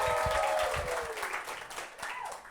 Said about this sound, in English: Let's give another round of applause to Maureen and the Mercury